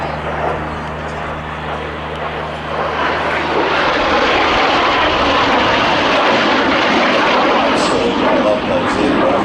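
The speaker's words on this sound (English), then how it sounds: "Very, very heavy use of the aircraft, and can I say at extremely low altitude most of the time." A BAC Strikemaster jet aircraft making a low-altitude display pass, a loud, steady broadband engine roar that swells after a few seconds and holds, with a voice talking beneath it.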